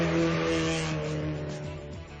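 Ken Block's Subaru Impreza WRX STI Gymkhana 2 car runs with a steady, buzzy engine note and a strong low hum, loud and near, easing slightly as it continues with no other sounds on top.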